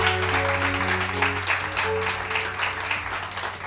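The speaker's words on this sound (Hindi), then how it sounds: "इनके लिए बहुत सारी तालियां" Studio audience on a Pakistani morning TV show applauds in a steady, dense wash of clapping, with a sustained musical tone and a few higher notes running underneath throughout.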